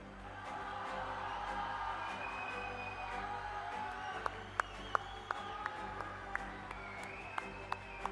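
Applause for a graduating student at a Newton International Academy / Newton British School class ceremony, a steady crowd clapping throughout with a few sharper isolated claps standing out toward the end.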